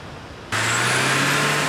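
A van's engine idles steadily at its exhaust, a loud constant low drone with hissing airflow that starts abruptly and continues without pause.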